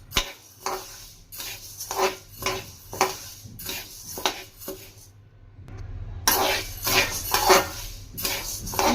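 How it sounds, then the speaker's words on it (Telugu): Urad dal stir-fried in a pan, heard as repeated scraping and clinking of a spoon against the pan in a steady rhythm, with a brief quieter pause before louder, busier stirring resumes. "చూడండి, నేను ఏ విధంగా లోపల వరకు బాగా ఫ్రై చేస్తున్నాను."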